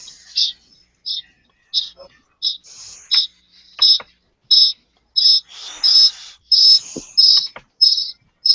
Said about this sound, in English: Jack, that's what those crickets sound like the night you were playing guitar outside